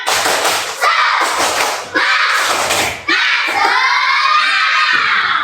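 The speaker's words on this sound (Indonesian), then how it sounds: "Coba mana tepuk semangatnya? Tepuk semangat." Schoolchildren in a classroom perform a rhythmic clap cheer: loud, close bursts of group clapping and shouted chanting in a repeating pattern, with short gaps between phrases.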